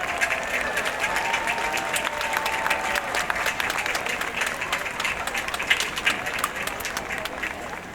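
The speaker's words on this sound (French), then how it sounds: "je vous invite à vous lever afin que nous puissions vous applaudir, mesdames, messieurs, les membres du jury" An audience at a fireworks competition awards ceremony applauds the jury, a dense, sustained roar of clapping with scattered voices and cheers mixed in throughout.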